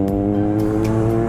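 A Bentley car in busy city traffic gives a brief, steady engine drone with a low harmonic hum, close and fairly loud.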